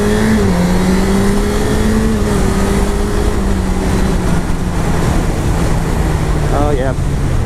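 A used Honda CBR1000RR liter sportbike on a test ride holds a steady, droning engine note that sags slightly in pitch, buried in heavy, constant wind rush.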